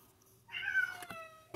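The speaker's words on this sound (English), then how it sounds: "Such a spoiled cat." A spoiled house cat gives a single drawn-out meow, close and fairly loud, in an otherwise quiet room.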